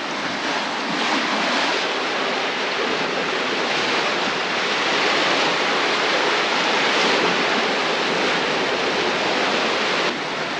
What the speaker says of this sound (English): They aren't really large waves compared to what we can get, but it's a nice morning and I thought I'd share them.